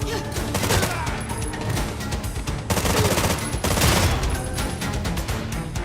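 Dense, loud video game gunfire pours out in sustained rapid bursts, near and continuous, with brief shifts in intensity and heavy crackle throughout.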